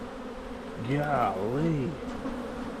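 Honey bees buzz at an open hive during a January brood check, a dense droning hum that swells and wavers in pitch close by, with someone briefly speaking over it.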